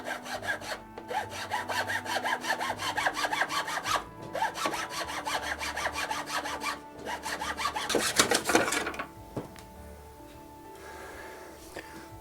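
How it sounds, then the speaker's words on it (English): A hand saw cutting a ring from a piece of bamboo, with rapid rhythmic back-and-forth rasping strokes close up, brief pauses between runs, then the cut finishing and the sawing stopping. "start and cut a nice ring of bamboo out of this thing"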